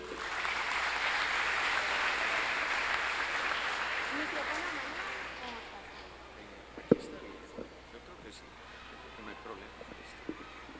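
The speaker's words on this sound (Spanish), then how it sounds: "Un fuerte aplauso de bienvenida." An audience at a formal university event claps to welcome a speaker, sustained dense applause for about five seconds that fades out, leaving faint murmurs and a few knocks.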